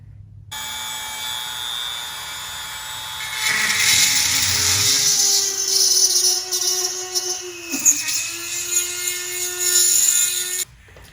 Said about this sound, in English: But now let's drill a hole.